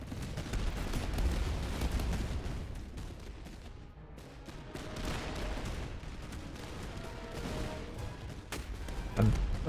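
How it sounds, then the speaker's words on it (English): Artillery canister volleys in a battle strategy game boom and crackle in irregular bursts, rumbling at a moderate distance under a steady din of battle. "They're getting some volleys off here with their canister."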